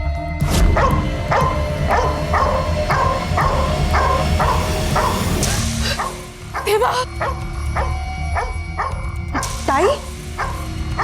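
A dog barks in a rapid, rhythmic series of loud, near yips, then pauses and resumes with sharper bursts and whimpers, over a noisy background with people talking.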